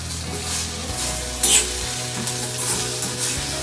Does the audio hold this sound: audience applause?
no